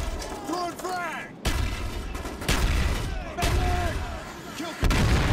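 Heavy booms and gunfire from an online Call of Duty Black Ops Domination match on Nuketown for the Wii, with a frag grenade blast among several loud hits, while game announcer voices speak throughout.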